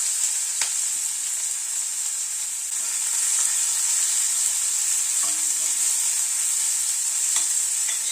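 Chopped medium-sized onion sizzling in hot oil with a bay leaf in a pan, a steady bright hiss that holds for the whole stretch, with a few soft ticks of stirring and no voices.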